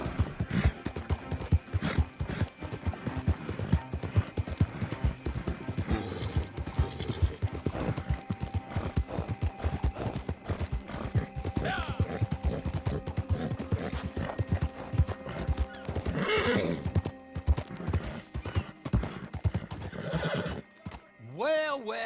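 Horse hooves clip-clop steadily through a Red Dead Redemption 2 scene, with a horse neighing and whinnying near the end over a busy, layered game soundscape and some background voices.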